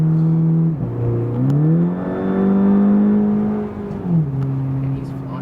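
A 2014 Volkswagen GTI with a DSG gearbox and modified sporty exhaust revs up and down, the engine note rising, holding, then dropping back to a loud, close idle.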